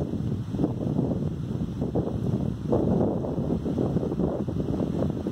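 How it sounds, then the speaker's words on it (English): Wind blows outdoors in a continuous low rumble and buffeting across the microphone, gusting slightly but never letting up. "You may hear the sound of the wind."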